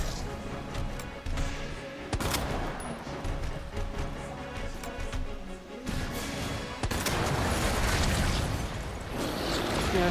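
Magnum shots in Resident Evil 2 boom against Birkin in the Umbrella HQ boss fight, a few heavy blasts scattered amid chaotic game noise, impacts and mechanical clatter, with speech mixed in.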